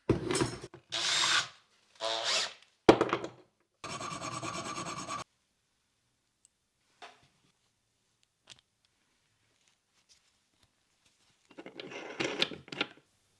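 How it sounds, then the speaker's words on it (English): A power drill bores into wood while building a wooden minigun, heard as several short bursts of rough, rasping whir, close and fairly loud, followed by a long near-silent stretch with faint taps and a final scraping burst. "I just drilled into a screw."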